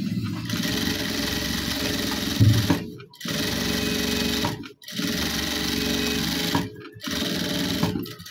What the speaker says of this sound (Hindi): ये नीचे वाला जो कपड़ा है, अभी ये उसके साथ ये सिलाई कर रहे हैं